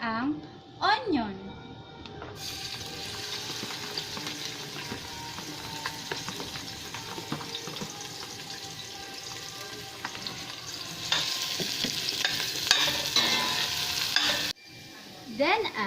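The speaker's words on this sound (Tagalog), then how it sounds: "Sa same pan, isusutay na natin ang onion." Onion sautéing in a pan for vegetable kare-kare, a continuous sizzle with stirring that grows louder toward the end, with a voice talking over it at the start.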